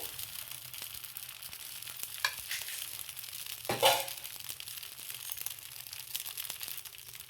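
Dosa batter cooking on a hot pan without oil, a faint continuous sizzling hiss with one brief louder scrape or crackle near the middle, otherwise steady and quiet with no talking.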